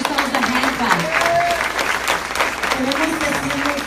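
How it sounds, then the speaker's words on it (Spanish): Applause from a church congregation during a bilingual Spanish-English service, steady dense clapping filling the room for several seconds while a voice talks over it. "Give yourselves a hand"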